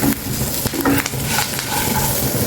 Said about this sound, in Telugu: ఇప్పుడు ఇందులో కొంచెం కరివేపాకు వేసేసుకున్నాం.